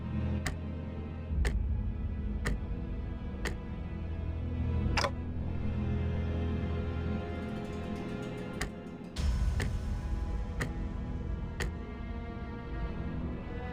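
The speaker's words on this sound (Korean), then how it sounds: "째깍대는 소리가 빨라지는 걸 보니" Sharp, isolated ticks from a clock-headed creature in the video game Limbus Company sound over a low droning background, spaced roughly a second or more apart and growing slightly irregular, with no talking.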